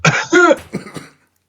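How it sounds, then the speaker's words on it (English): A single close, harsh cough followed by a short throat-clearing rasp, loud and brief. "Cough."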